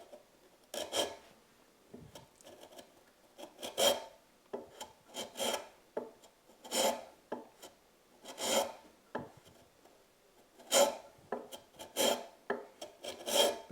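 A hand plane rasps across tough end grain of a three-legged workbench leg, taking short stop shavings in a steady series of brief scraping strokes, close and alone.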